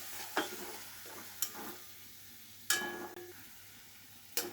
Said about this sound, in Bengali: মশলাটা সামান্য একটু জল দিয়ে কষিয়ে নেব।